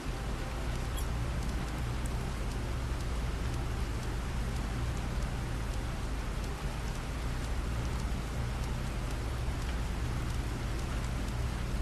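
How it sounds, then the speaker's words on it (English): Steady rain hisses evenly throughout in the video game Planet Crafter, a constant dense patter with no voices and no breaks. "Oh, it's raining."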